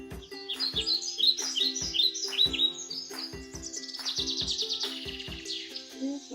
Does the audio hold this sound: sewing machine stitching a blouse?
no